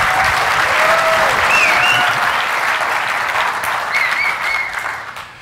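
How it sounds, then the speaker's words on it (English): A conference audience at a Kubernetes tech event claps for the speaker, a dense, loud, sustained round of applause with a few faint whistles over it, fading slightly near the end. "let's give a big warm of applause for Joe"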